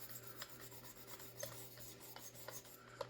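A Kizer folding knife blade is sharpened by hand, with faint, repeated rasping strokes that come in a loose rhythm, each a short scrape of steel across an abrasive surface, heard close and quiet.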